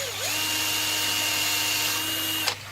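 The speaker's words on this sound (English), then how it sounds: "we've just got to drill some holes through there" Power drill boring a hole through plastic pipe for a shrimp tank filter, a steady close whine that holds for about two seconds before cutting off sharply.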